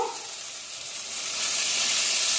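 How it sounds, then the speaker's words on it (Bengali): A spice paste of cumin, garlic, Kashmiri chilli powder and turmeric with a little water fries in a pan, giving a close, rising hiss and sizzle that grows louder over a couple of seconds. "এখন মশলাকে ভালো করে কষিয়ে নিতে হবে।"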